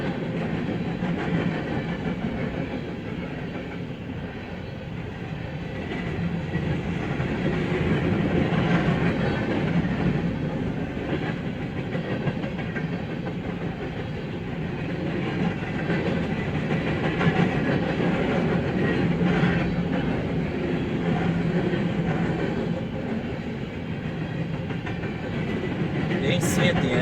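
A BNSF freight train rolls past on the Staples Subdivision in Detroit Lakes, Minnesota, its steady rumble and clickety-clack of wheels on rail holding loud and close for the whole span, swelling and easing slightly as cars go by.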